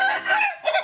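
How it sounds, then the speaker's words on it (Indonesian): A native Indonesian free-range rooster (ayam kampung) crows once, close and loud, a short rising call that breaks and then resumes, with no talking. "pejantan ini adalah genetik ayam kampung asli"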